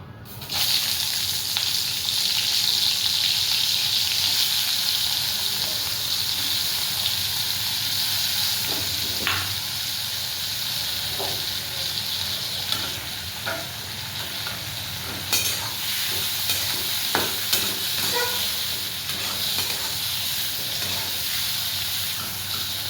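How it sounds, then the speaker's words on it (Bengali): Shrimp frying in a pan with turmeric, a steady loud sizzle with stirring scrapes and occasional utensil clicks running throughout. "এইভাবে 1 মিনিট ফ্রাই করে নেব"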